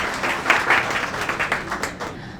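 Audience at a poetry evening applauding to welcome poet Nazia Ghous, a brief burst of many hands clapping together at moderate distance that tapers off.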